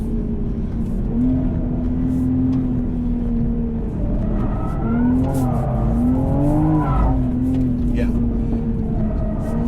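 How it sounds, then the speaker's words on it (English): A 2020 Toyota GR Supra engine rises and falls in pitch through a long slide, with a steady loud drone, some tyre squeal and brief excited voices over it. "Good throttle response for the slidies."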